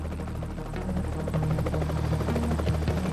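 Police helicopter in flight in the UK, a steady low rotor throb and engine hum at moderate distance, continuous for a few seconds.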